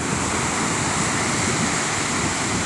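Rough ocean surf roars in a dense, continuous wash at a fishing derby off St Lucia, loud and close with wind buffeting the microphone.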